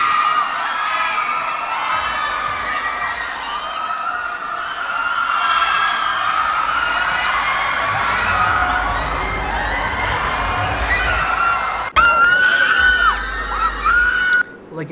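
A large crowd of fans screams and cheers loudly as a performer arrives for a concert at a mall, keeping up a sustained high-pitched roar with a sharp surge near the end.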